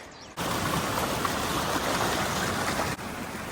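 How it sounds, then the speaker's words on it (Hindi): Sajla waterfall near Manali pours in a continuous, dense rush of water, loud and close. The roar starts abruptly, holds steady for a few seconds, then drops slightly toward the end. "ये सजला वाटरफॉल की आवाज़ है"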